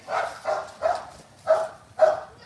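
Small, spunky bandog dogs barking, five separate mid-pitched barks spaced roughly half a second apart, close and clear with quiet gaps between them.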